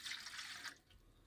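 About three glasses of water are poured into a pot to be heated for boiling blue butterfly pea flowers, giving a brief, quiet splashing pour that runs for under a second and then stops.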